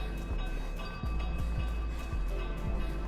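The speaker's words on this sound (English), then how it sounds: "A flying train!" A flying train in the video game MotorSlice, rendered as a steady mechanical rumble with a sustained tonal drone and a regular run of low clunking thumps, like wheels passing over rail joints, without any voices.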